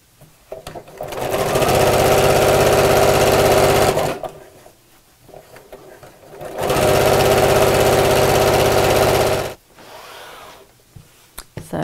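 A sewing machine runs a decorative stitch along a laptop bag in two loud, steady whirring bursts of a few seconds each, separated by quiet pauses with small handling clicks.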